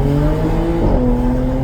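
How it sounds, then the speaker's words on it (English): A manual stick-shift car's engine and exhaust pull hard and loud up close, the tone climbing steadily, dipping briefly at a shift, then rising again. "Damn, this exhaust sounds good."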